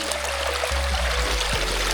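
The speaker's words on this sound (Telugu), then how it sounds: "కొండల జలపాతము" Cold water running down a small stream between hills like a tiny waterfall, a continuous near rushing wash with a couple of low bumps partway through, no one speaking.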